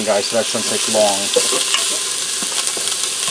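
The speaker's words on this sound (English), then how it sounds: "I'm going to get them in here and saute them for about a minute or two, just till they start to turn translucent" Diced onion, ginger and garlic sauté in a pressure cooker, giving a steady bright sizzle with a few stirring scrapes and a voice speaking over the first half.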